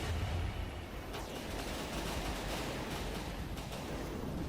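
Dense, continuous crackle of many small fragmentation shells bursting in a naval battle in From the Depths, a steady wall of rapid distant explosions with no gaps across the whole stretch.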